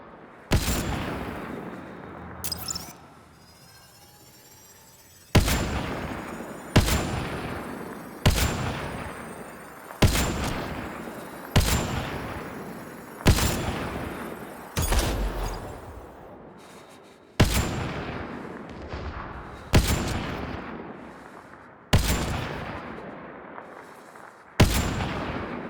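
Gunfire in the video game Mass Effect Andromeda: a long series of loud, sharp shots spaced about every one to two seconds, each with a decaying echo tail, after a brief quieter pause near the start.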